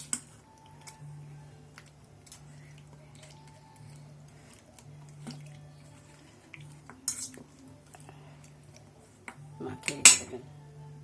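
Meat being mixed by hand with spices and mustard oil in a bowl, faint scattered clinks and soft squishing, with a sharper clatter of dishes near the end.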